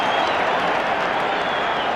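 Full-house AFL crowd at the WACA for a 1995 Fremantle versus Geelong game, a continuous broad roar of cheering and clapping that holds steady throughout.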